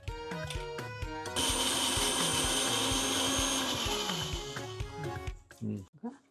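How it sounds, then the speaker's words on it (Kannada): A kitchen mixer grinder whirs loudly for about four seconds, grinding cumin, coriander and turmeric powders, with brief talk before it starts and after it stops. "ಇದನ್ನ ಮಿಕ್ಸಿ ಮಾಡ್ಕೋಬೇಕು."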